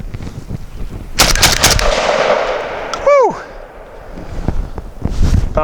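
An SDS Imports Lynx 12 12-gauge shotgun fires two loud, sharp blasts close together outdoors, followed by an echoing boom and a falling whistle-like tone, with a voice exclaiming afterward.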